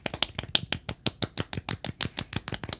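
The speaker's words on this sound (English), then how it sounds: "Can we get a golf clap for Justin?" A small group gives a quiet golf clap: soft, light hand claps in an even, rapid patter of about fifteen crisp taps, close and alone.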